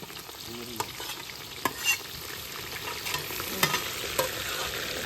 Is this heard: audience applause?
no